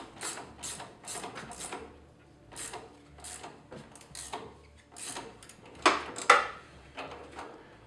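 A ratchet tightens the nut over the bushing and washer on a 2019 Toyota Tacoma front shock. Short bursts of quick clicking come at close range, with a couple of louder metallic knocks near the end.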